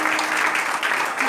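A church congregation applauding the Lord, with a dense, steady round of clapping from many hands filling the space throughout.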